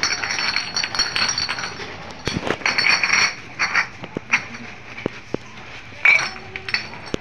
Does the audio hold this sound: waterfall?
no